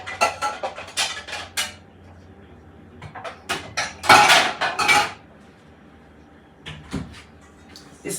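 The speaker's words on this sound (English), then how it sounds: "I'm going to get this colander right quick" Metal kitchenware clanks and rattles as a Pioneer Woman colander is pulled out of a cupboard, a series of sharp close clatters in bursts with quieter pauses between.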